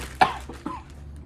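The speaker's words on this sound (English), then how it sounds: "Try not to cough as you do it" A single sharp cough from someone who breathed in fine powdered wing seasoning while shaking it in a bag, a close, abrupt burst followed by a softer second hack and a brief wheezy tail.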